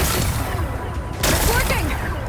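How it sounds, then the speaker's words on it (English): Rocks being blasted in Horizon Forbidden West, a sharp explosive burst cutting in partway through over a steady game-ambience rumble. "Gotta blast away some rocks, so I can expose the power cell."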